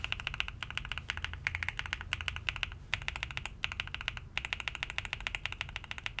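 A GMK67 mechanical keyboard with lubricated switches clatters under fast, continuous typing, dense rounded keystrokes in rapid bursts with short gaps, heard up close and alone.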